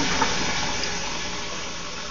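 Warm water runs steadily from a tap, a soft even hiss and splash held at a constant low level throughout.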